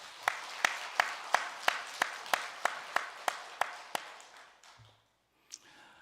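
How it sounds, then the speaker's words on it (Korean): A church congregation claps for the choir after a Christmas hymn: about a dozen slow, evenly spaced claps in unison, fading out, followed by near silence and a brief soft knock. "우리 찬양대의 감사와 하나님께 영광의 박수 올려드리겠습니다"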